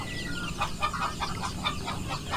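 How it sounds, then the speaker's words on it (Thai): Chickens in a pen holding a mix of large and native breeds cluck continuously at fairly close range, rhythmic clucks coming through a steady farmyard background. "มาคอกนี้จะเป็น ไก่โตผสมไก่ลาดตัวนี้ ปนกันอยู่ในคอกนี้"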